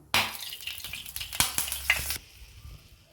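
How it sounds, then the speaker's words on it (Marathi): A spoonful of butter hits two spoons of hot oil in a pan, bursting into loud close sizzling with a few clinks, then dying down to a quiet hiss after about two seconds. "आता 1 चमचाभर मी बटर घालते त्याच्यामध्ये"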